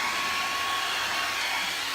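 A $9 blow dryer drying paint on glass Christmas ornaments gives a steady, loud, continuous whooshing roar, close and unchanging, with no talk.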